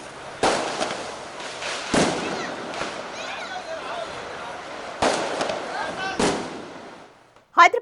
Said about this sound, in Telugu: వాడవాడల్లో బాంబుల మోతలు మోగిపోయాయి.